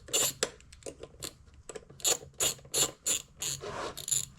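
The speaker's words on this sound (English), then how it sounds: "loosen up that hose clamp." An 8mm ratchet loosens a hose clamp at the intake resonator box of an L5P Duramax truck, giving close, crisp clicking bursts in an uneven rhythm, with no talking.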